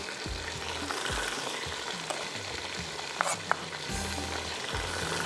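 Sliced tomatoes fry with ginger and garlic, giving a steady crackling sizzle close by, with a few sharp utensil taps on the pan and a faint low hum underneath.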